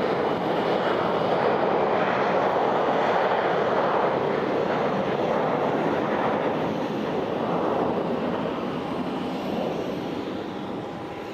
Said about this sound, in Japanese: 今ちょうど離陸したんですけどちょっと見えないですかね。